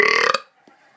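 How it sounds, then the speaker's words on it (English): A loud, drawn-out belch right up close, a buzzy, resonant burp lasting under half a second that ends abruptly, followed by quiet and a faint small thump. "Belching."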